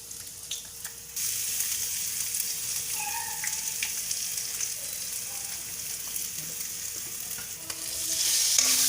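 Groundnut paste stirred and sautéed in a pan with groundnuts and fresh curry leaves for mango rice: a steady hiss of frying with scraping stirs, getting louder near the end. No one speaks.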